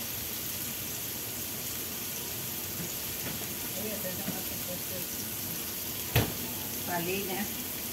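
Onion softening in a frying pan for a palm-heart moqueca, a steady low sizzle running throughout with a brief clatter near the end and some faint background voices.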